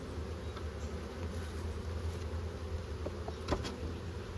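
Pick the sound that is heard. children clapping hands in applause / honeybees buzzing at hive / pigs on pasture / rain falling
honeybees buzzing at hive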